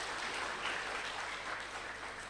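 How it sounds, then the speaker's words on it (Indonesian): Faint, even clapping from a lecture audience, a short continuous patter with no voices over it. "Tepuk tangan dong."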